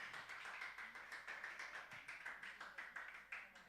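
Audience clapping at a live music seminar in Ghana, a steady patter of many hands filling the room, fairly distant and even in rhythm, with no speech over it.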